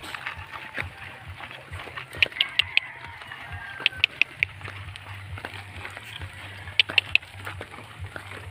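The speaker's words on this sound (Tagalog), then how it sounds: "mga ibon, oh" Birds chirp in short bursts of sharp, high calls on a farm field being planted with mung beans and sweet potatoes, over a steady low engine-like drone with a carabao nearby.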